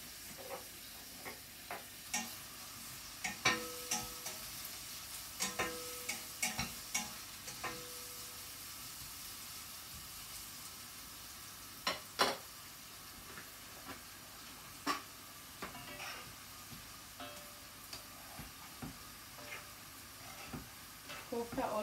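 Elephant-foot yam kofta fry in hot oil for a Mithila-style dish, a soft continuous sizzle broken by scattered sharp clicks and scrapes of stirring, heard up close and fairly quiet.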